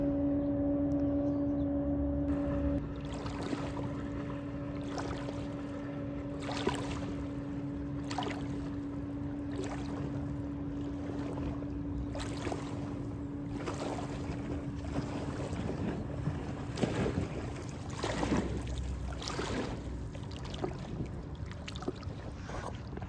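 Boat passing on a river at the Feather River Parkway, with its engine droning steadily and waves lapping against the bank in repeated soft surges, mixed with outdoor wind noise.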